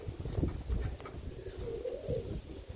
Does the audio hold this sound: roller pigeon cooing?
yes